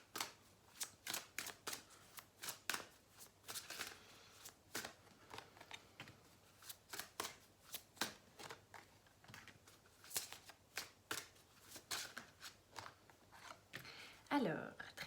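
Tarot cards shuffled by hand for a weekly reading, giving a steady run of crisp riffling bursts with short pauses, close and fairly quiet, ending in a brief slide near the end.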